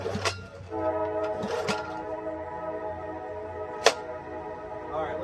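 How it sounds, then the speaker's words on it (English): A train passes close by outdoors, its horn sounding in a sustained, loud, harmonic blast that holds for several seconds, with rumbling wheels and a few sharp clanks underneath. "Sorry about the train noise and the wind noise"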